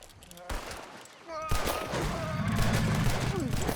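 Gunfire in Red Dead Redemption 2 on PC, with loud close shots and bursts that grow dense and continuous as voices shout over the shooting.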